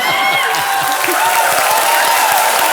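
Loud, dense clapping from a studio audience at the Kaun Banega Crorepati quiz show, a continuous wash of applause with a faint tonal hum beneath.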